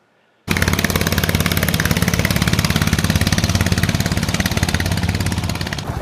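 A motorboat engine starts up abruptly on a lake and runs loud and steady with a fast rhythmic chug, close by, continuing without pause.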